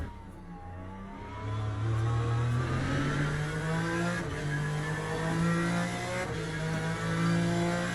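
A race car in Le Mans Ultimate, heard from the cockpit, revs and accelerates with a rising engine whine that stays loud and steady through gear changes.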